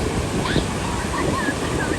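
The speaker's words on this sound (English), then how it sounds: "So the waves out here are just pristine." Ocean surf rolling onto Moonlight Beach in Encinitas, California, a steady broadband wash of breaking waves with wind noise on the microphone and faint voices drifting through.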